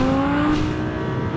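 An Audi R8 V10 FSI 5.2 with 610 horsepower, naturally aspirated and unmodified, holds a loud, close, steady engine tone with a sustained harmonic drone that eases slightly over a brief moment.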